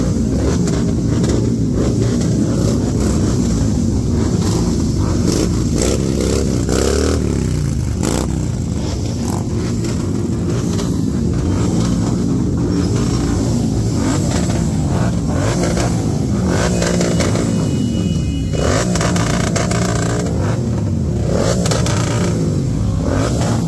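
Several motorcycles on a Sunday group ride in Nagpur rev hard together in a sound check, a loud, continuous roar of engines with surging throttle and wind buffeting close to the microphone.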